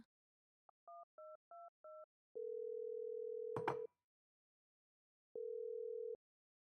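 A landline call being placed: a quick run of four short dialing beeps, then a long steady tone, a brief clatter over it, a pause and another long tone.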